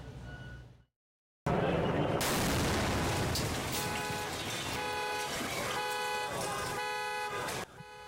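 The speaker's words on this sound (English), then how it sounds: "take a look and a listen to that dramatic explosion that happened in this very neighborhood." Bomb squad explosion in a residential neighborhood heard in news footage: a sudden loud blast after a brief silence, followed by sustained roaring noise with car alarms and horns sounding over the aftermath.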